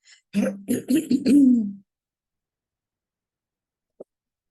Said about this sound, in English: I always have to clear my throat when information is coming through